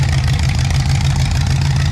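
A loud car exhaust rumbles steadily up close, a deep throbbing drone that holds the same level without a break.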